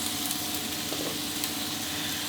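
Garlic chive flowers stir-fry in a hot wok, giving a steady, loud, close sizzle with light crackles throughout and no voices.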